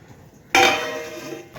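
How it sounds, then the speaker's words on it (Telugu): A lid drops onto a pot of tomato and potato curry with one sharp metallic clank that rings briefly before fading. "ఇప్పుడు మనం మూత పెట్టేసుకుందాము"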